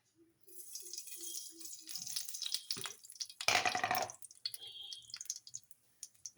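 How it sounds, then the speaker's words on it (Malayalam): Mustard seeds sputter and pop in hot coconut oil in a pan, giving faint, scattered crackles with one brief louder burst near the middle. The sound is quiet and close, with no speech. "ഞാനൊരു പാൻ എണ്ണയൊക്കെ ഒഴിച്ച് വെളിച്ചെണ്ണ ഒഴിച്ച് ചൂടാക്കിയിട്ടുണ്ട് അതിനകത്ത് ശകലം കടുകിടുക"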